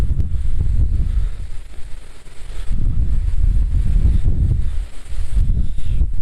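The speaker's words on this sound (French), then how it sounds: "ce vent là, glacial." Cold, icy wind gusting across an exposed mountain bivouac point in December, with a heavy low roar buffeting the microphone in long, surging waves that ease briefly before rising again, no voices present.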